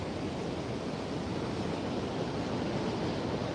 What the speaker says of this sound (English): We're looking at 5 to 7 feet waves, probably.